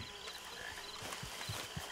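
Soft, rhythmic clip-clop of horse hooves approaches in the Red Dead Redemption 2 video game, a quiet, steady series of hoofbeats with faint ambient background.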